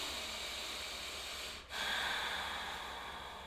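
A deep yoga breath, one steady broadband hiss that runs through the whole clip with a brief pause at the midpoint, close and soft, with no talking.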